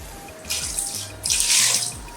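Water splashes from a tap into a pot in a kitchen while pepper soup is being made, two close, loud bursts of gushing flow with short pauses, no talking.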